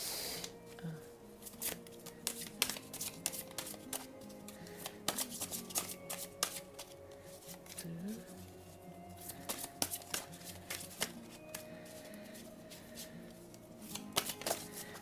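A deck of oracle cards is shuffled by hand, giving close, quiet, irregular flicks and soft slaps of card stock in bursts throughout.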